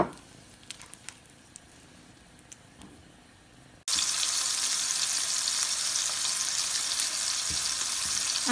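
Shrimp bhuna in a home kitchen: quiet clinks and faint sizzling, then oil added and a loud, steady hiss of frying that continues to the end.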